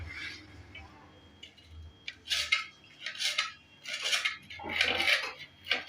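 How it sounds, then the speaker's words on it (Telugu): Coriander and mint leaves are finely chopped on a board, with a series of crisp knife taps and clicks coming in uneven bursts, close and fairly loud against a quiet background. "మనం కొత్తిమీర, పుదీనా నీట్గా కడుక్కొని సన్నగా తరుక్కోవాలండి."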